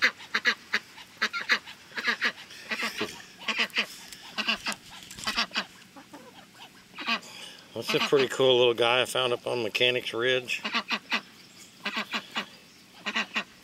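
Geese and ducks on a Missouri farm honk and quack loudly, with a sustained noisy burst of honking midway. Someone talks over the birds before and after it.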